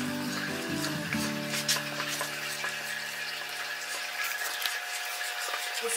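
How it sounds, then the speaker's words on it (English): Mac and cheese sauce being stirred as it melts in a pot, a soft continuous sizzle with scraping stir strokes and a steady low hum, no talking. "Now what you want to do is stir it up, and it should melt as we go on."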